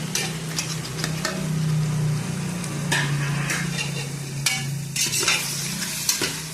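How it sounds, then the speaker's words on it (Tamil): Tomatoes for chicken biryani frying in a pan while being stirred, a steady close sizzle with scraping and clinking strokes from the spoon scattered throughout, no voices. "நல்லா கிளறி விடுங்க"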